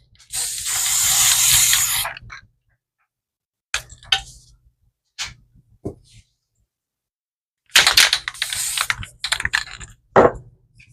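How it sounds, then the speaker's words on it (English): A loud aerosol can hisses in a two-second burst while spraying over grown crystals, then short spurts follow after a pause, ending with a longer hissing spray and a few clicks. "Okay, now I'm going to spray over the crystals."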